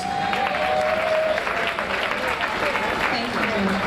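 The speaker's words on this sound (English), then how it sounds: "let's give Miss Stephanie Parker a warm round of applause" Audience applause at a music seminar, a steady dense wash of clapping with crowd noise and some voices, loud and continuous throughout.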